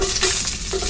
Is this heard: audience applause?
no